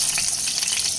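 Cubed, washed potatoes frying in hot oil, a dense continuous hiss and crackle filling the moment without pause or voices.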